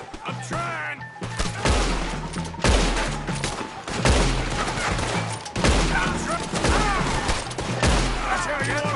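Sustained gunfire from a Red Dead Redemption 2 shootout, loud, dense rapid volleys of shots and cracks rolling continuously with brief pauses, while voices call out over the battle.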